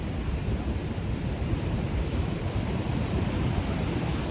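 Ocean surf washes against a rocky coast under an overcast sky, a steady, loud, broadband roar with wind buffeting the microphone and no distinct breaks between waves.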